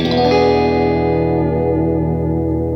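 A single strummed dominant 7 guitar chord rings out with distortion and echo, sustaining and slowly fading.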